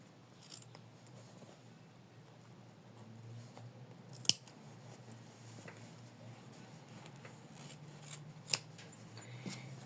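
Ordinary scissors cutting ribbon for a felt heart, quiet close snips scattered irregularly over a faint background, with a few sharper isolated clicks.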